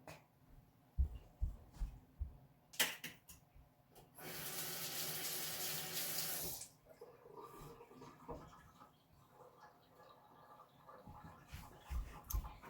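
Water from a kitchen faucet runs steadily into the sink for roughly two and a half seconds, framed by scattered knocks and clatter of kitchen work before and after.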